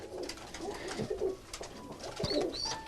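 Tumbler pigeons coo in a breeding loft, soft throaty calls repeating close by, with faint rustling and a couple of brief higher chirps.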